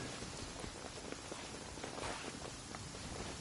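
Rain falling in the Genshin Impact video game, a dense, even hiss of drops pattering on a surface with scattered soft taps, faint and continuous with no voices.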